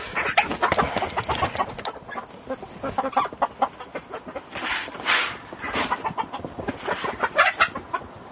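Several chickens clucking and chattering close by, a busy overlapping stream of short calls with no talking.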